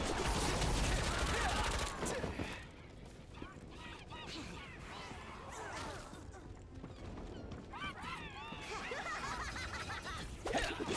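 Bursts of video game gunfire from shooting at enemies, dense rattling shots loudest at the start, then scattered impacts and mechanical clatter mixed with game effects and music throughout.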